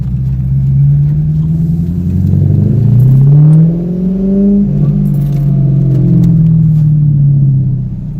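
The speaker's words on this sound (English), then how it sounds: "Alright, listen to that V8." A Corvette C5 V8 revs loudly and close up, its deep rumbling pitch climbing and falling through several rises over about eight seconds, with no talking.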